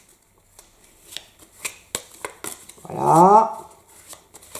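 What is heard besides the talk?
shuffling playing cards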